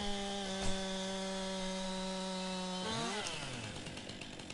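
A video game chainsaw cuts tree branches, its engine holding a steady loud buzzing whine, then dropping in pitch and bogging as it bites into the wood, with no speech.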